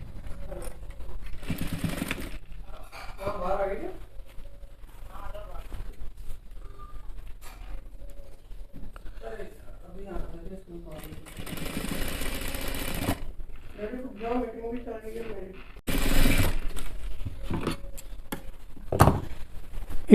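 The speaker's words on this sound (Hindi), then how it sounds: "रिवर्स सीवर लगाने के लिए हम इसको इस तरीके से ऐसे कर देंगे और इसके ऊपर सिलाई मार देंगे।" A sewing machine stitches a Jodhpuri coat in several brief bursts of whirring, separated by pauses in which a person talks and handles the fabric, the machine close and moderately loud.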